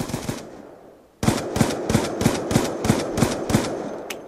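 Rapid, evenly spaced gunfire bursts from a multiplayer shooter game, a short volley then about a second of quiet before a steady run of loud, close, punchy shots.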